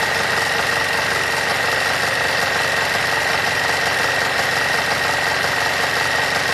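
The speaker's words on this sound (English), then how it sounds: "I'm going to run it on the serger to get that finished serger seam" Steady mechanical whirring and rapid buzzing of a serger sewing machine finishing a pillowcase seam, running continuously at an even pace, close and fairly loud.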